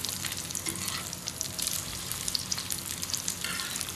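Shami kababs frying in a pan of oil, a dense continuous crackling sizzle with light pops and spatters, close and steady throughout with no voices.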